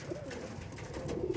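A male Madrasi pigeon gives soft, low cooing calls at close range, quiet and alone.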